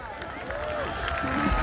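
Audience clapping and cheering for a singer at a spring festival singing contest in Algarrobo, a dense burst of applause under an announcer's voice.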